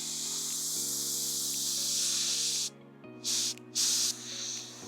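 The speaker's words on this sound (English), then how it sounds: "If it's a spray gun and it's spraying forward, I'm just doing all the forward ones now." An airbrush spray gun painting a Harley Davidson side panel, short bursts of close hissing spray starting and stopping over a steady low compressor hum.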